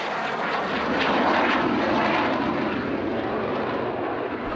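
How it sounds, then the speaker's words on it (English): A Hawker Hunter jet passes overhead at an airshow, a loud broadband roar that swells slightly and holds steady throughout, heard alone at a distance. "The sight and sound of a Hunter flying over Tangmere"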